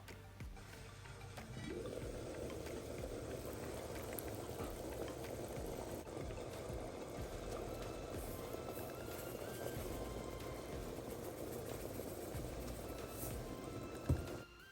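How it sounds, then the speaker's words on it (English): Water with corn bubbles and churns in a pot, a steady low rumble and continuous rolling boil that stays constant for several seconds, fairly close and moderate in volume. "we are gonna cover this and bring it to a boil"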